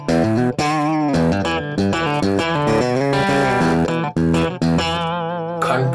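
An electric guitar with a clean tone plays a quick, funky run of bright single notes and short chords, loud and close, with no talking.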